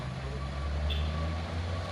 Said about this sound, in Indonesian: Isuzu pun langsung menanjak.